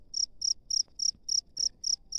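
Field crickets in a rice paddy chirp alone, close and steady: eight evenly spaced, bright pulsed chirps in about two seconds.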